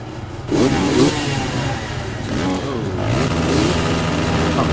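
A motocross bike engine in the video game MX vs ATV Untamed revs and accelerates, the pitch climbing and falling through gear changes, loud and continuous, with a few background sounds mixed in.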